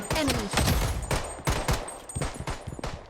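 Rapid automatic gunfire in the mobile shooter Blood Strike during a squad firefight, repeated sharp bursts close and loud throughout.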